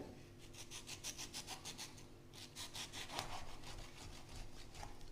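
A knife cuts a mango along both sides of the stone with quick, repeated rasping strokes, a burst of about eight, a short pause, then another run of scraping cuts close by.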